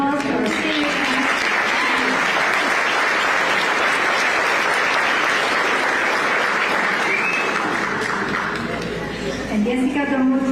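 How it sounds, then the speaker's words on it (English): A crowd gives sustained, loud applause for a graduating senior class at a ceremony, dense clapping lasting about ten seconds with some cheering and chatter mixed in, easing slightly near the end. "Please give a big round of applause for our senior class."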